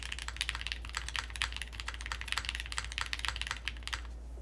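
Steady typing on a Quantum60 mechanical keyboard with milky yellow switches, a plateless build, rapid close-up clacks in uneven bursts over a faint constant hum, no voices.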